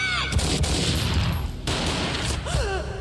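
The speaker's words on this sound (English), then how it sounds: "A gunshot boomed and she fell down in slow motion." Gunfire in the Max Payne video game, a dense burst of loud shots and booms filling the scene over a music-laden game soundtrack, with no talk.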